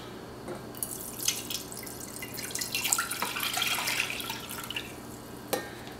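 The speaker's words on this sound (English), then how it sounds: "We're going to take our 2 quarts of water and we're going to mix it with this." Water being poured into a garlic liquid mixture, a splashing, trickling pour with drips that swells in the middle and tapers off, with a final small splash; fairly quiet and close.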